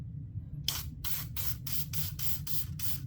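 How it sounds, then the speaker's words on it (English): Seven quick hissing bursts from an aerosol can of Hoppe's 9 solvent sprayed onto a Smith & Wesson Equalizer pistol, close and evenly spaced, following a moment of low background hum. "and just spray it on the gun."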